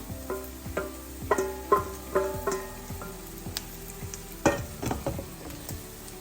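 Cooked clam meat stirred in a hot pan for a Kerala clam stir-fry, with a spatula knocking and scraping in uneven bursts over a low, steady sizzle, close and fairly loud.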